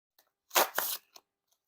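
A deck of brown Bicycle Rider Back Archive Series playing cards spreads into a wide fan with a quick, close papery swish lasting under a second, surrounded by a few faint card ticks and quiet.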